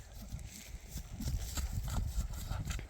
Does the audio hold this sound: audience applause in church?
no